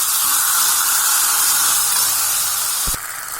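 Tomatoes sautéing with salt in a pan give off a loud, broad hissing sizzle that holds steady, then drops after a brief clatter near the end.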